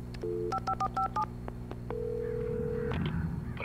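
A rapid run of dial-tone beeps as a number is keyed in, followed by a long steady tone as a phone line connects, in the video game Alan Wake Remastered.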